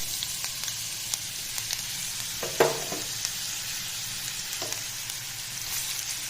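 Sliced mango pieces frying in a pan with fried methi seeds, a steady close sizzle with a few stirring clicks and scrapes, no voices.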